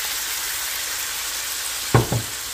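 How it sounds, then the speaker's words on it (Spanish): Shrimp frying in a pan as wine is poured in, giving a steady broadband sizzle throughout with a sharper burst of hissing and a couple of quick clatters near the end. "agregamos un poco de vino, que es con lo que lo vamos a cocinar el día de hoy"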